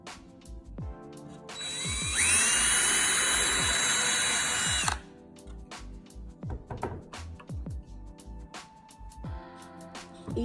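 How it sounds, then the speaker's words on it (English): A power drill drives a screw into wood in a dining room build, a close high whine running steadily for about three seconds amid scattered knocks and handling clatter before and after. "my husband's just gonna do a pilot screw, and then we'll, screw this right into the wood"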